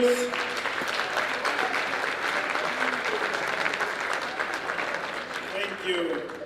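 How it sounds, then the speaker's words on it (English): Steady, full applause from a crowd at a provincial police awards ceremony, dense clapping that holds evenly at close range and tapers slightly near the end. "Round of applause"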